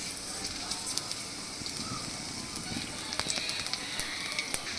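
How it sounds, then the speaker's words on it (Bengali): White and black cumin seeds fry in hot oil for tempering, crackling and popping in scattered sharp bursts over a soft sizzle, with a voice in the background. "তাতে ফোড়ন দিচ্ছি কিছুটা সাদা জিরে, কিছুটা কালো জিরে"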